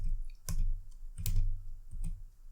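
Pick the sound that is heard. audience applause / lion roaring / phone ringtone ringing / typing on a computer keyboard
typing on a computer keyboard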